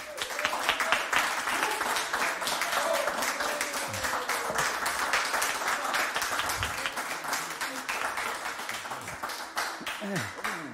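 A studio audience at a late-night show welcomes a guest with steady, dense applause lasting around ten seconds. A few voices sound faintly beneath the clapping near the end.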